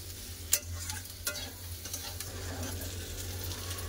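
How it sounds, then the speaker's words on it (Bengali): Shrimp with red amaranth greens and jackfruit seeds stir-fried in a pan, a soft steady sizzle with a few sharp scraping stirs of the spatula, close and fairly quiet, no talking. "এরকম ভাজা হবে"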